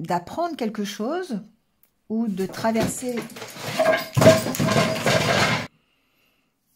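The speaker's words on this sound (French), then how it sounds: "c'est mon chat qui a sauté sur l'étagère et qui s'est raté. Donc, elle a tout fait tomber." A house cat jumps onto a shelf, misses, and knocks everything off, making a burst of clattering, crashing objects lasting a couple of seconds, mixed with someone talking in French before and during the fall.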